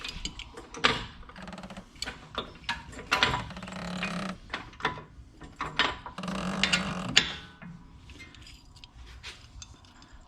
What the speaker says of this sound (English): I'm just going to jack it up until it lines up